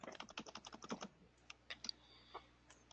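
Quick bursts of typing on a computer keyboard, a rapid run of close key clicks that thins to a few scattered taps, faint over a low steady hum.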